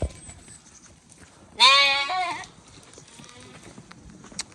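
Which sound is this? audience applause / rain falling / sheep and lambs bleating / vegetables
sheep and lambs bleating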